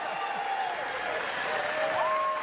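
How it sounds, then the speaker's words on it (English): Sustained applause from a large crowd at a San Diego Comic-Con panel, steady and dense throughout with a few faint whoops rising above the clapping. "One more round of applause."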